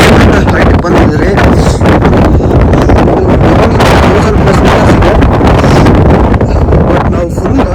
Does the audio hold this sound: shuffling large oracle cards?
no